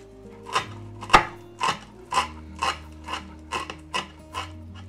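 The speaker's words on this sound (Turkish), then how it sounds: "3-4 dal maydanozu ince ince doğruyorum." A knife finely chops three or four sprigs of parsley on a board, giving about nine crisp, evenly spaced strikes close up with no talking.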